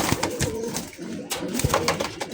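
A big pair of giribaz pigeons coos in soft, throaty bursts close by, repeating several times over a short stretch with no talk.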